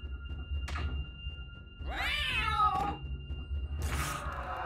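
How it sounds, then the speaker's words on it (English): A thrown cat yowls in the dungeon crawler Guild of Dungeoneering, a couple of short sliding meows and a thunk among sparse game effects over a low rumbling backdrop. "We'll throw a cat to finish it off."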